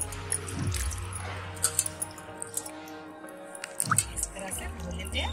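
An aloe vera leaf is rubbed clean by hand under water, with soft drips, splashes and squishy handling sounds close by over a low steady background.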